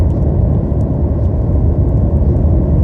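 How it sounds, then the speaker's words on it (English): A car drives along the road on the way to work, heard from inside the cabin as a loud, steady low engine and road rumble that holds even throughout, with no talking. "I am driving to work right now"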